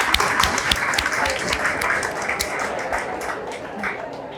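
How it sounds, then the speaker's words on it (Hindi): Students in a classroom burst into scattered clapping, individual claps audible within a brief, moderately loud round of applause. "ताली बजाओ भाई"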